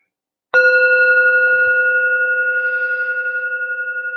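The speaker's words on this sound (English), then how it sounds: "on the tap of the bell" A meditation bell struck once, ringing with a clear, steady sustained tone that slowly fades, alone in quiet surroundings.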